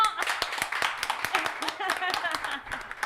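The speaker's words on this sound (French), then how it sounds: "Marina, applaudissements." Audience applause during a televised talent contest vote, with individual claps standing out over voices and talk that run beneath.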